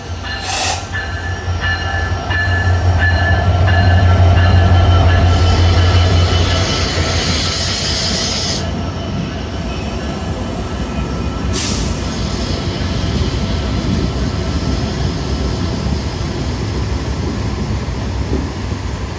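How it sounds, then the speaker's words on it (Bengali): The Rupsha Bangla Express intercity train, hauled by locomotive 66-38, rolls into Bhanga Junction with a loud, sustained rumble of wheels and carriages. A steady horn-like tone sounds early on, and occasional squeals and clatter ride over the continuous roar. "ঢাকা থেকে ছেড়ে আসা বেনাপোল অভিমুখী আন্তনগর রূপসী বাংলা এক্সপ্রেস ট্রেনটি এখন 66-38 লোকোমোটিভ নিয়ে প্রবেশ করলো ভাঙা জংশন।"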